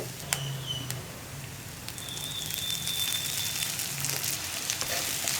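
Steady crackling sizzle of hot coconut oil in a frying pan with okra masala, scattered sharp pops and a brief faint whistle-like tone, no voices.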